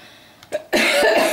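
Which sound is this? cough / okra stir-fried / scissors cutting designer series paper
cough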